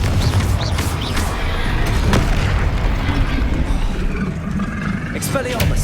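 Confringo blasting spell exploding in Hogwarts Legacy, loud booming bursts within dense combat noise, a voice casting spells over the action.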